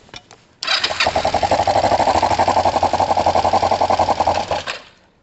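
A Kawasaki ER5 motorcycle engine runs rough after a short start attempt, a loud, uneven, rapidly pulsing chug that holds for several seconds and then cuts off.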